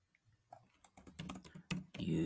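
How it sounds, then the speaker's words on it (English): Fingers tap quickly on a computer keyboard, a quiet burst of irregular clicks that grows louder and denser toward the end, with brief speech mixed in. "I'm gonna type here"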